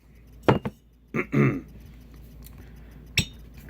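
A small whisky tasting glass is handled and set down with a few sharp glassy clinks and knocks, one pair close together, then a rustling scrape and a final single clink, close and clear.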